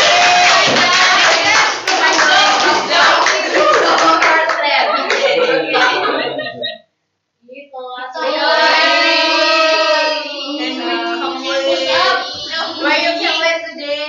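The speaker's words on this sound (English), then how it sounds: "So give applause to him" Classroom audience clapping for a student presenter at an English club session, a dense burst of hands that breaks off briefly and then resumes loudly for several more seconds, with children's voices mixed in.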